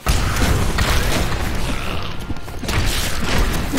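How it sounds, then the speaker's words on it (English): Grenades bursting in a room in the video game Diablo III: dense, loud crashing blasts and rumbling debris, one continuous barrage with a brief dip midway before swelling again. "Throw some grenades in that room"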